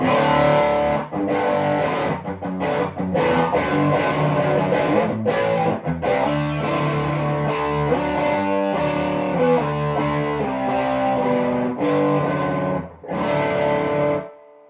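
Electric guitar played through a Crunch Lab pickup with mild low-gain crunchy overdrive, strummed chords and single notes ringing out with short pauses between phrases.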